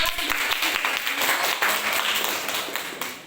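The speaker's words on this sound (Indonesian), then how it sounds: "tepuk tangan untuk kelompok 2" A classroom of students applauds a group after their presentation, a dense run of steady hand clapping at moderate level lasting throughout.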